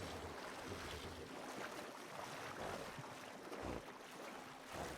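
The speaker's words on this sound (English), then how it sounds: "You can swim on your horse." Horse swimming through water in Red Dead Redemption 2, a steady close splashing and sloshing wash with low churning surges, continuous over several seconds with no voices.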